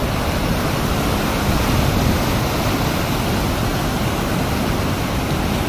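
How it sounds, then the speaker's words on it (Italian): Steady, broadband roar of rushing water at the Toce waterfall in Piedmont, a dense, constant wash heard up close with no breaks and no voices. "adesso vi faccio vedere la parte della cascata."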